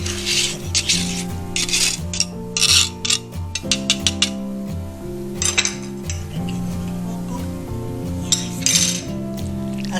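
A spoon scraping orange zest into a dish for bread pudding, with repeated metallic scrapes and clinks over a steady, tonal background of music.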